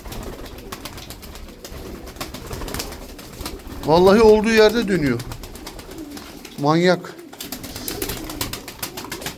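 Fancy flying pigeons coo near and loud in two bursts, a long rolling coo followed by a shorter one, while someone talks over the birds.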